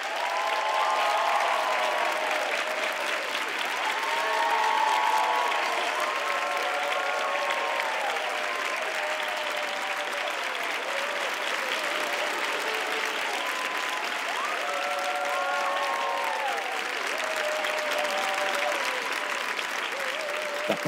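Studio audience applauding a singer on a Christmas Eve television special, long, steady and dense clapping that fills the room, with faint voices and cheers blended in underneath.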